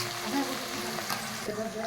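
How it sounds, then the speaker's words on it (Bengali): Dried red chillies and whole cumin seeds frying in a pan with ginger, garlic, onion and green chilli paste, a steady close, dense sizzle with faint stirring throughout. "আমি এই শুকনো লঙ্কার গোটা জিরে দিয়ে ভেজে দিচ্ছি"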